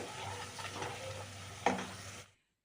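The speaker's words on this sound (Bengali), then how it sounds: "জল দিয়ে ভালো করে মশলাটা আবার কষিয়ে নেব" Spice paste with cumin and coriander being stir-fried with water in a pan for a vegetarian potato, pointed gourd and chhana curry, a steady close frying hiss with scraping stirs and a sharp clack near the end before it cuts off.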